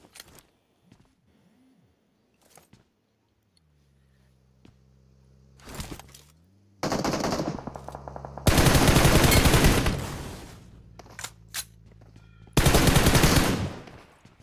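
Bursts of automatic gunfire from PUBG Mobile, with sustained rapid volleys loud and close, separated by scattered single shots, footsteps and quieter gaps.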